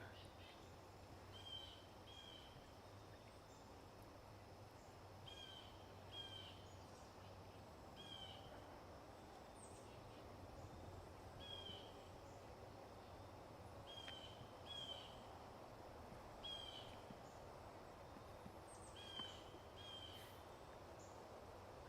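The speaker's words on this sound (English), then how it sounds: "A lot of nice bird activity here, so it's fun to enjoy that." Scattered bird calls and chirps repeat throughout a Massachusetts woodland during a hiking walk, faint and fairly distant over a steady outdoor background hush.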